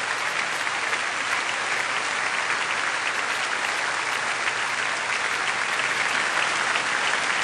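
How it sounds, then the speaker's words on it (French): Steady, dense applause from a large concert audience fills the space evenly throughout as the conductor enters before an orchestra and choir, with no voices standing out. "tout le monde l'applaudit"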